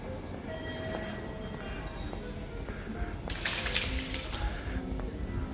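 Train at a large railway station in Asahikawa, Hokkaido, at night: a faint low rumble of moving cars with occasional clanks and a short burst of hissing brake noise, heard at a distance in a quiet hall.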